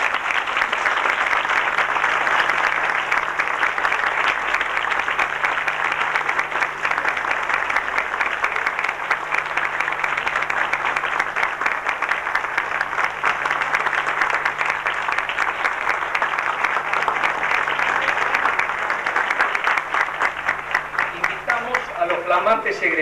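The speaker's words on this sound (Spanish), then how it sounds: "La saludamos con un fuerte aplauso." Sustained audience applause fills a school graduation ceremony hall at a 1991 IPEM first-class commencement in General Levalle, a dense, steady clapping that holds loud and even throughout, with a faint hum underneath.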